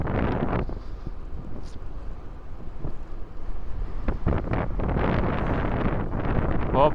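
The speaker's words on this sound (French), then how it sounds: "il y a quand même du vent" Wind gusts buffet the microphone in low, rumbling bursts while riding an electric mountain bike outdoors, loud and uneven with brief lulls.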